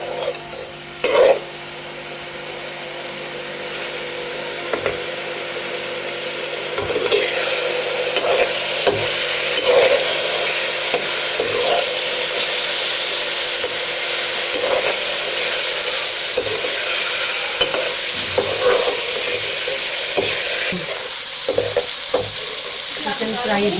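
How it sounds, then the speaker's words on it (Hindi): Chicken pieces frying in a pan for Chinese biryani, a loud, steady sizzle up close, with a spoon repeatedly stirring and scraping against the pan throughout. "चिकन को फ्राई करेंगे।"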